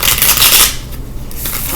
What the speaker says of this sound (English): we only got 2 more shuffles to go